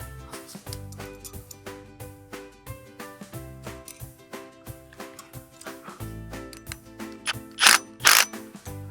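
A ratchet wrench clicks steadily while a nut is tightened during a backyard zipline installation, with rapid rhythmic pawl clicks close by, ending in a few louder, heavier turns.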